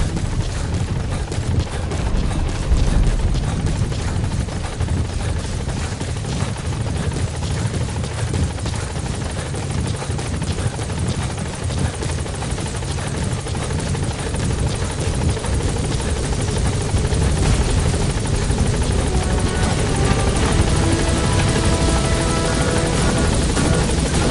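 A helicopter roars steadily and close for the whole stretch, its heavy rotor thrum and engine whine staying loud with no pauses.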